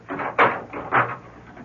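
Door closing as someone lets themselves out of a house, two soft muffled thumps close together, near and moderately loud, with no voices.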